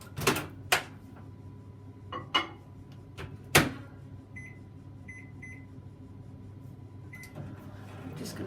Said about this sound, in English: Now I'm just going to put the butter into the microwave while I'm mixing the rest of this up.